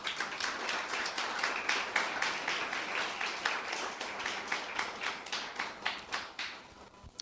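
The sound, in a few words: applause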